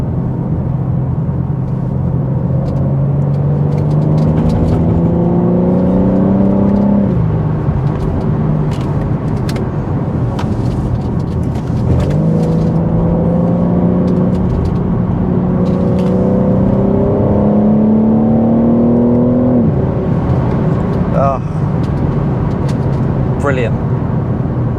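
A BMW G80 M3 Competition xDrive driven hard through bends, its engine note climbing steadily in pitch through each gear, then dropping back at every shift, a loud, continuous cabin drone with repeated rises over about twenty-five seconds.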